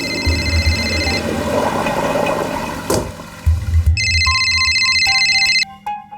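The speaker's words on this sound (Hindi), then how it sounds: "देखना तेरा फोन बज रहा है" A mobile phone rings with a repeating electronic ringtone, tonal bursts starting and stopping over busy indoor background noise in a dramatized scene from the Hindi crime show Crime Patrol, fairly loud and close.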